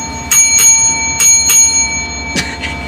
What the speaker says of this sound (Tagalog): Pindutin mo na ang doorbell.